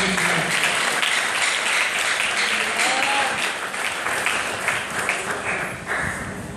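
A church congregation claps loudly and continuously, dense sustained applause filling the whole stretch with a few voices audible underneath.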